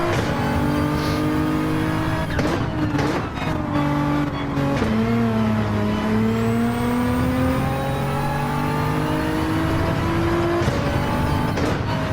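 Race cars, including a Corvette and a Nissan, scream around the Catalunya circuit, engines revving up and down through gear changes, loud and close throughout with shifting pitch as they accelerate and brake.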